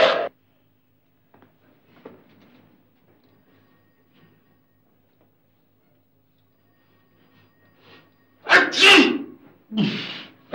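Two loud sneezes in a row come after a long near-silent stretch in an Egyptian drama film scene, the second slightly softer than the first.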